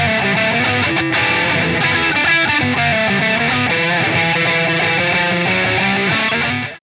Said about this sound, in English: Next up is the actual ring modulator, but using the fuzz channel.